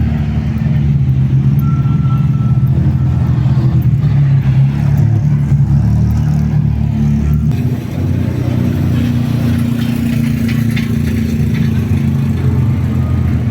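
Ligier race cars idle and rev around the paddock at a race event, a steady, loud, close engine rumble with throttle swells, running alone without talk.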